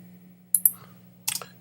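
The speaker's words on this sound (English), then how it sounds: "I need to trim up those little mouse clicks" A computer mouse clicks twice in a quick pair, then twice more a moment later. The clicks are soft and close over a low steady hum while someone edits video clips.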